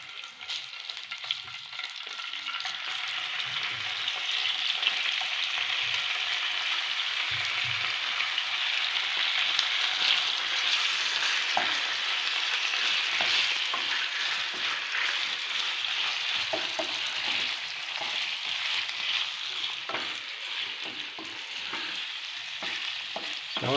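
Chicken sizzling and frying steadily in a pan with garlic, curry leaves and green chillies, a close, continuous crackle with stirring scrapes throughout and no talk.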